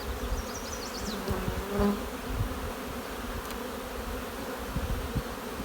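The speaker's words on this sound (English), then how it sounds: "even if I have to shake the bees off" Honey bees buzz around a nuc hive, a dense, steady droning close to the microphone with a few louder passes as individual bees fly by. No voices are heard.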